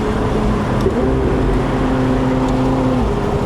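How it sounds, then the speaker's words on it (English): McLaren 750S Spider supercar engine, 2025 model, a steady loud droning hum heard up close while driving, with no talk over it. "it screams supercar"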